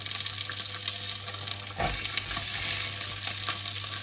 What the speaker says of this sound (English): we're going to get all this lovely vegetables into this pan and get this cooked up